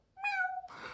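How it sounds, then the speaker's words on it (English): A small house cat lets out a single clear meow, close and fairly loud, with a brief rustly noise right after it. "I heard his little meow"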